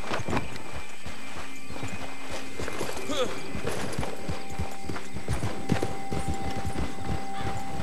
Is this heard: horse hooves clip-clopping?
yes